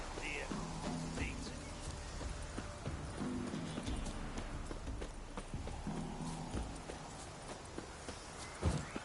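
Roach the horse in The Witcher 3 sends out a steady clip-clop of hooves moving at pace, close and clear, with game ambience and a few faint voice-like sounds underneath.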